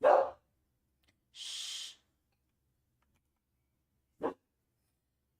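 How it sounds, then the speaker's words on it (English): Dog barking in a quiet indoor room, one loud close bark at the start and a shorter, fainter bark a few seconds later, with a person hushing it in between. "Sorry about my dog."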